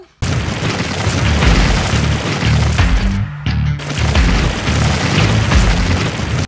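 A bomb goes off in the Mr. Meat horror game, a loud, sustained booming blast with crashing debris that breaks off briefly and then roars again.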